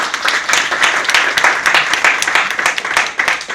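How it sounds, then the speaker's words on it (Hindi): An audience at an LIC agents' training session gives enthusiastic applause. It comes as close, fairly loud clapping with a clear, uneven rhythm of individual claps that keeps going throughout. "इनके लिए जोरदार तालियां।"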